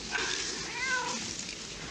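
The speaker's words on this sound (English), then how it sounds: "I like cats." A cat meows in a drawn-out, wavering call that rises and falls, heard fairly close and on its own.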